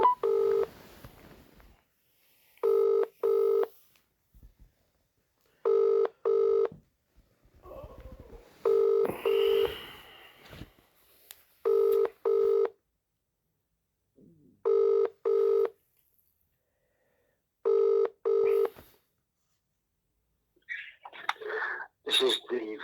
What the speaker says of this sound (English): Ringing up Graeme Kenna, City Solicitor.